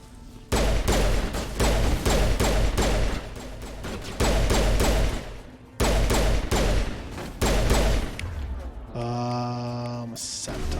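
Gunfire in Mass Effect Legendary Edition comes as sustained rapid bursts of automatic shots in several long volleys, loud and close, ending with a brief tonal electronic effect.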